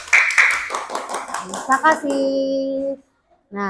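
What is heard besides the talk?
applause for a class group presentation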